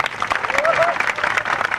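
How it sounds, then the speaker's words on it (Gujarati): Lively audience applause for Vikram Kaka at a Thakor community gathering, a close, busy clatter of many hands with a voice briefly heard over the clapping. "અમારે વિક્રમ કાકા માટે જોરદાર તાળીઓ થઈ જાય"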